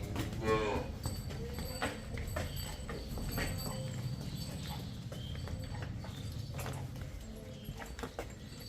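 Cows moo amid dairy farm noise, with a low drawn-out call near the start and hoof clatter and livestock movement continuing underneath.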